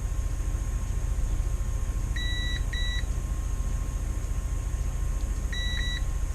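A multimeter set to continuity test beeps as a lead touches a wire while accessories are wired up. There are three short, clear, high electronic beeps close by, two together and one a few seconds later, over a steady low hum, with no voices.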